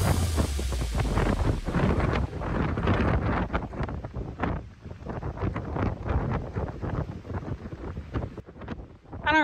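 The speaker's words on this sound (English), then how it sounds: "the wind is insane. There's leaves flying everywhere. The trees are huge and still bending." Strong wind roaring and gusting through huge bending trees at a dirt track, with leaves flying, a loud continuous buffeting rush that swells and dips throughout.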